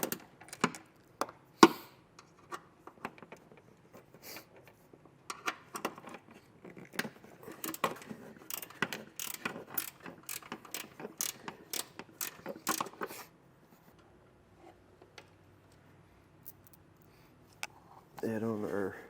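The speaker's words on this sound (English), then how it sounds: "We'll just take a wrench," A hand wrench working a bolt loose on a 2019 Ford during an air suspension compressor install, giving a run of sharp ratcheting clicks in quick bursts, close and fairly clear, trailing off into quiet shop background.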